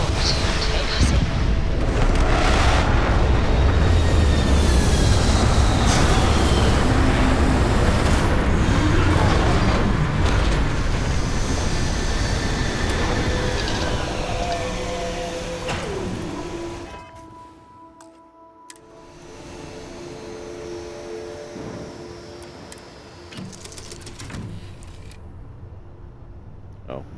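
A spaceship touching down in the Starfield video game: a loud, sustained roaring engine rumble with creaking mechanical textures that fades sharply partway through, leaving a quieter hum and faint tones.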